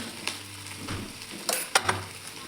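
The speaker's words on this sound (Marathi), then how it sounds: "तेल व्यवस्थित गरम झालं आहे पत्ताकोबी टाकून घेते" Shredded cabbage dropped into hot oil in a kadai, a soft sizzle and stir with a few sharp clinks and scrapes against the pan, close and without talk.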